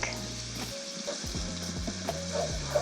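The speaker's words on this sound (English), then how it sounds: "Onions in. Give it a stir." Onions sizzle steadily in a hot pan for adobo fried rice, with a continuous frying hiss and the scrape and clatter of stirring over it.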